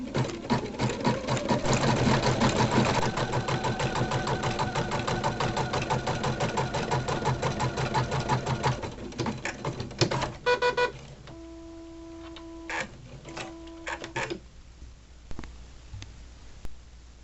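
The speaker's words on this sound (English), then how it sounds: "now we're ready to do the satin stitching for it" An embroidery machine sews a dense satin stitch around an appliqué heart, a steady rapid mechanical whirr for about ten seconds, then stopping and restarting in short bursts with a faint electronic tone in between.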